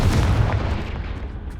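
A Confringo spell explodes in Hogwarts Legacy: a single loud, deep blast with a rumbling low end that fades across the short moment.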